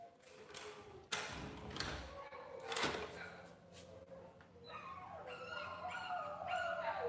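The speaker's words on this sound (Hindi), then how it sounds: "बाहर कुत्ते रो रहे हैं।" Dogs howl outdoors at a distance, their long wavering wails and yips rising and overlapping, with thuds and rustling nearby.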